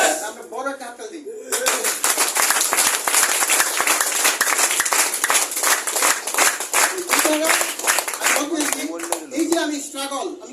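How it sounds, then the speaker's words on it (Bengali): Audience applause breaks out after a speaker's line at a motivational talk, a dense, loud burst of clapping lasting several seconds before tapering off as the speaker's voice returns. "আমরা বড় একটা হাততালি দিই।"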